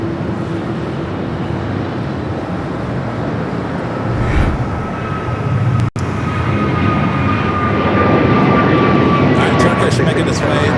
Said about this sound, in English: The Dreamliner, 787-10 Dreamliner coming in from Amsterdam